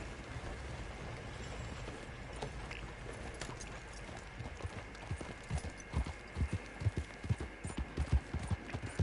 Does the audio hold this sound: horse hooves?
yes